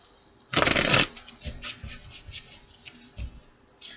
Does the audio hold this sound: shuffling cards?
yes